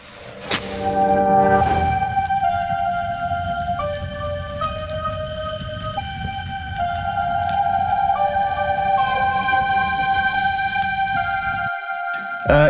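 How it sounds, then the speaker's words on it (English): An electronic track's intro ambience layers reversed reverb swells, reversed guitars and sustained string pads into a dense, shimmering wash of long held tones that glide between pitches before cutting off abruptly near the end. "And together the intro ambience sounds like this."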